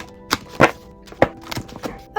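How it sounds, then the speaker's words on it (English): Tarot cards being shuffled by hand, a series of soft papery thumps and riffles landing in irregular bursts about every half second, close and moderately quiet with no talking. "Okay, the deck is shuffled."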